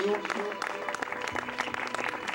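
A church congregation claps in a brief burst of applause, mixed with voices and shouts over the clapping.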